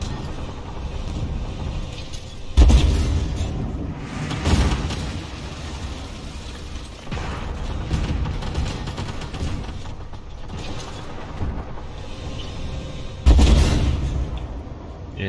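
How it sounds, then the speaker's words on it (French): Cannon shots from a Type 96B tank in the video game Armored Warfare boom out three times as heavy, loud blasts over a constant dense rumble of battle and engine noise. "Il met quand même des sacrés coups de canon."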